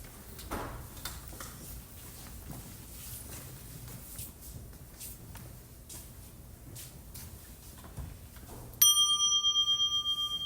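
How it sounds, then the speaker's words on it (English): Meditation bell struck once near the end of a silent group mindfulness session: a bright, clear ringing tone that starts suddenly and sustains with a slowly decaying shimmer, after several seconds of quiet room rustle and soft movements. "There'll be a bell after 5 minutes and one at 10 minutes."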